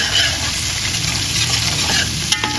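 Chopped ginger and garlic fry in oil in a pan for a Nepali-style fish curry, giving a steady close sizzle with light stirring scrapes and a couple of sharp pops near the end.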